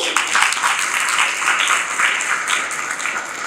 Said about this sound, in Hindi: इन पंक्तियों के लिए तालियां चाहूंगी।